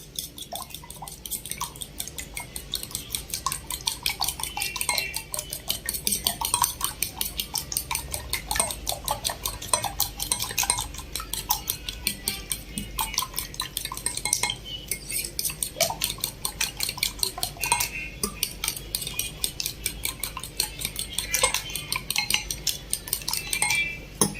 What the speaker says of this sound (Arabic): هنضيف الملح على البيض ونضربه لحد ما القوام يتجانس